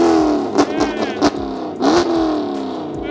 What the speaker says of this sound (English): I'm gonna give it another rev.